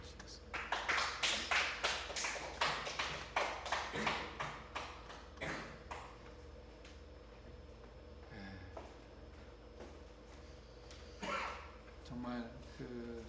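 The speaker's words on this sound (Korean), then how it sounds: "하나님께 영광의 박수 주시겠습니다." A church congregation claps during a Sunday worship service, a dense burst of applause in the first six seconds that thins and fades, with voices and faint sounds continuing afterward.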